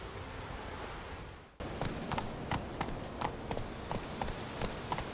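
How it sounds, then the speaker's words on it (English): The horse Roach trots in The Witcher 3 video game, with steady, evenly spaced hoofbeats over a soft outdoor ambience after a brief dip in the background. "Whoa there, Roach."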